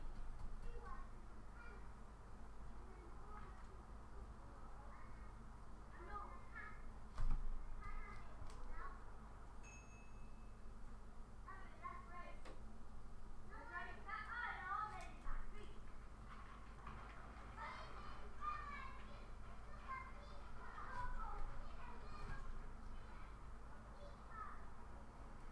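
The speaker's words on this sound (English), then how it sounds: "There's kids playing about because it's sunny. They're loud." Children play loudly outdoors on a sunny day, their distant shouts and calls rising and falling over a steady low hum for the whole stretch.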